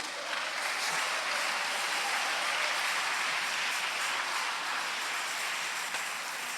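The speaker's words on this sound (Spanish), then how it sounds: "Denle un aplauso al Señor." A church congregation applauds the Lord during a sermon, a steady, fairly faint and distant roar of many hands clapping that holds evenly from start to finish.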